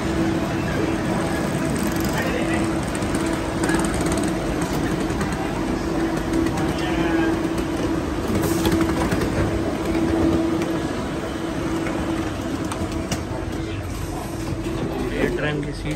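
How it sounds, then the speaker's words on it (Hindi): The KLIA Express airport train runs from KL Sentral toward Kuala Lumpur airport, heard from inside as a constant loud rumble and hum with faint rail clatter, while people talk over it throughout. "ये ट्रेन है"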